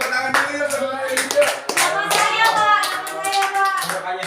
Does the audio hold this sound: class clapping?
yes